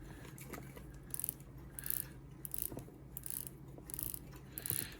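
Rotating bezel on a Seiko 55th Anniversary diver's watch in high-grade stainless steel, turned in a series of short mechanical clicks that come in bursts, close and quiet.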